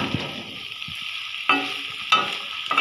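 Curry simmering slowly over low heat in a pan gives a soft, continuous sizzle, broken by a few sharper clinks or stirring bumps.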